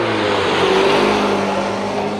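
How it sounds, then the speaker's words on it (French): A motorcycle passing on a street at L'Estaque, a loud steady engine drone close by for the whole stretch, with no talk over it. "Allez, c'est une moto."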